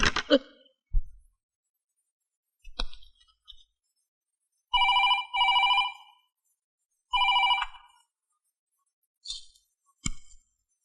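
A telephone in a ladies' hostel rings in a film scene, with short repeated trilling bell bursts separated by silence, fairly close and clear, alongside a few thumps and clinks.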